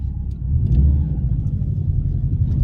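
A blobeye Subaru Impreza WRX accelerating, its engine a deep steady rumble heard from close by, building slightly and holding a strong low drone throughout.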